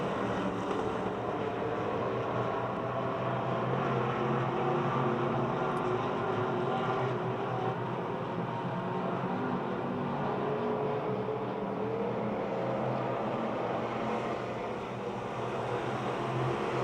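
Pure stock race cars circle the half-mile oval at Pennsylvania Motor Speedway, their engines merging into a continuous distant roar that swells slightly as the field passes, with no voices over it.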